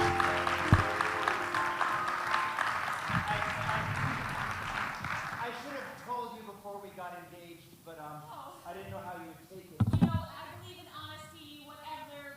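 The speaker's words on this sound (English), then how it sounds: "please, a big round of applause for the Theater of Public Policy" Audience applause for the Theater of Public Policy improv comedy troupe at a Minneapolis mayoral forum: dense clapping for about six seconds, fading as a voice begins talking over the tail.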